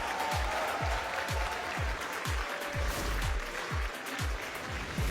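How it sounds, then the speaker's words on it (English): Steady applause from an esports crowd at the Brawl Stars Championship, dense clapping throughout with a repeating low thump underneath, loud and sustained. "The applause is yours"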